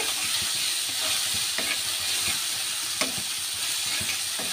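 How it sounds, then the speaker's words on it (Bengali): Greens stirred in a pan with onion, garlic and two green chillies give a steady close sizzle and frying hiss, with a few soft scraping strokes of the spoon. "শাকটা পেঁয়াজ, রসুন, কাঁচামরিচ দুটো তার সাথে মিশিয়ে দিলাম শাকটা।"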